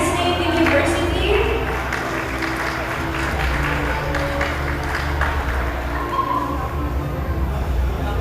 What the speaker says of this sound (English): A round of applause for the Cagayan State University.